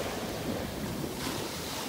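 Ocean surf on a beach in North Naples, Florida, with the tide coming in, a steady broad wash of waves close by, mixed with wind rumbling over the microphone.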